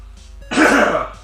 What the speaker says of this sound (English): Having to clear my throat.